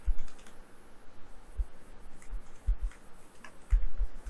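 Quick, close keystrokes tap steadily on a computer keyboard as PHP code is typed, in uneven bursts with a few heavier key presses.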